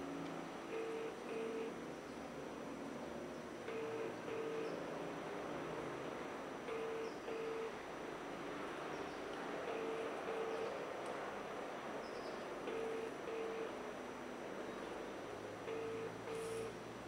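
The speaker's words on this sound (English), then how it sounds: "It's ringing." A telephone rings on the line after a number is dialed, producing a faint, evenly spaced ringback tone that repeats about six times over a low, constant line hiss.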